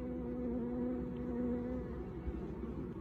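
Honey bees buzz steadily at a hive in an outlying apiary, a close, continuous drone with a sustained hum that holds for the whole stretch with no talking.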